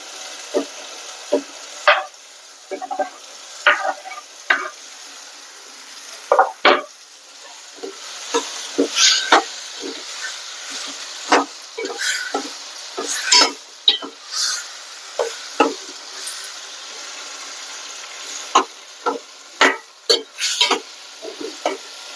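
Brinjal is stir-fried for a village-style prawn curry, with repeated close scraping and clinking of a spoon against the pan over a faint sizzle, in irregular bursts throughout.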